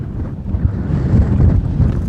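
Strong, gusty wind buffets the microphone at Thornton Viaduct, a disused railway viaduct, producing a loud, continuous low roar that swells and eases without a break.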